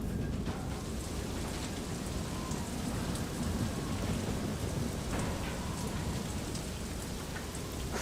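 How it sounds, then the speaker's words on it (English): Steady, dense rain drums on the roof of a vehicle in the video game FAR: Lone Sails, a constant hiss of drops with faint low rumbles underneath, no voices. "you can hear the rain hitting the top"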